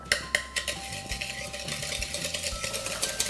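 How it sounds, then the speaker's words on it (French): Hand whisk beating sugar and eggs in a bowl: a quick, close run of rhythmic ticking and clinking as the wire strikes the bowl, over a steady low hum. "je vais commencer tranquillement à fouetter ça avec mon fouet à la main"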